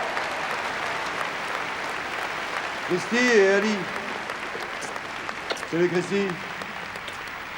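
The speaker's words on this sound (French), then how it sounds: "Christy et Aline, on les applaudit très fort" Audience applause at a live stand-up comedy show at Bercy, a broad crowd clapping that runs steadily under a host's voice as two volunteers are called up, with short bursts of talk and cheering on top.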